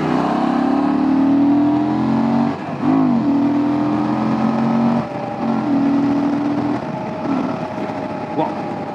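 Motorcycle engine revving up through several rising acceleration sweeps, loud and close, with brief dips between pulls and a continuous throaty drone.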